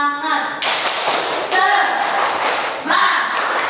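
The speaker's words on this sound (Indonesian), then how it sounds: "Tepuk semangat dulu." Classroom of students doing a rhythmic spirit clap, a burst of loud group claps and thuds near the start and again later, with chatter and voices around it.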